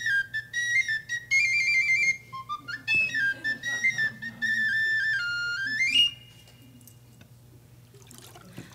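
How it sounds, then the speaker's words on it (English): Someone whistles a wandering melody in clear, close notes with short pauses and a rising run, then stops, leaving faint quiet background. "she taught me how to whistle."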